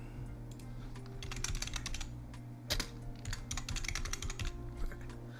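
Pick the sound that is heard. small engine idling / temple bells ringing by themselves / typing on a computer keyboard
typing on a computer keyboard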